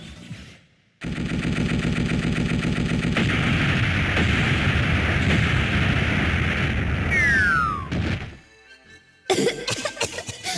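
In the video game Megaman Legends 2, a Gatling cannon fires a loud, continuous rapid burst for several seconds, followed by a descending whistle, a short silence and a final sharp blast.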